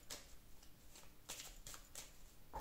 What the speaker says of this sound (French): je vais tirer deux cartes.